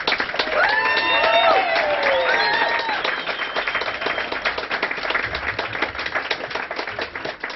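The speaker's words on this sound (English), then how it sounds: "how about a round of applause for James Price Point?" A pub audience at a political talk breaks into loud, sustained applause with scattered cheers, the clapping staying dense and steady throughout.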